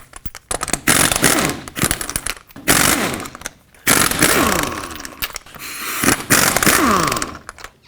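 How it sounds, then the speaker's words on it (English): Bursts from an impact gun spin lug nuts off a 1997-2003 Ford F-150 wheel with a 21mm socket, four or five loud, close hammering rattles separated by short pauses, with no talking. "take off all 5 of your lug nuts with a 21mm socket"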